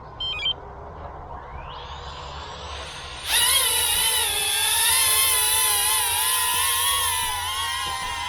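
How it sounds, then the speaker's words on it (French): Motors of a Hisingy Sunray beginner FPV drone kit spinning up indoors: a faint rising whine, then an abrupt jump to a loud, steady high-pitched buzzing whir that wavers slightly in pitch. "On rarme les moteurs."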